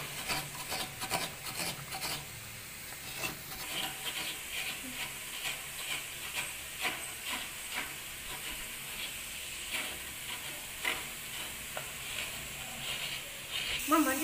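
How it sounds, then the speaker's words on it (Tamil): Coconut being grated by hand for a Malabar egg coconut podimas, a steady rasping, scraping rub repeated in quick strokes close to the mic, continuous throughout with no talk over it. "அதுக்குள்ளே நம்ம தேங்காயையும் திருவிட்டு வந்துடலாம்."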